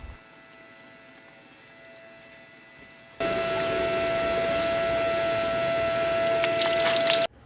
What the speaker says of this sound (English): this is hooked up to an electric pump with some antifreeze, and what we're going to do is pump it through the block